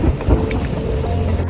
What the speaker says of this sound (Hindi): इतनी तेज़ बारिश हो चुकी है, गुफा जैसी है जिसके नीचे बैठ रहे हम सारे के सारे